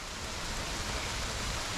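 Heavy rain falling outdoors during an airsoft game, a loud, continuous hiss of broadband patter with no pauses or distinct drops.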